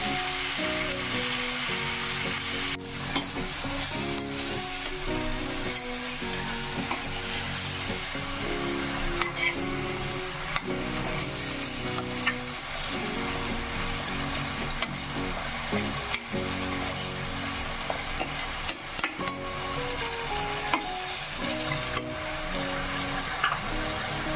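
Steady, dense sizzling of crushed garlic frying with turmeric powder in a pan while chicken is cooked, continuous and close, with occasional scrapes and clinks from stirring.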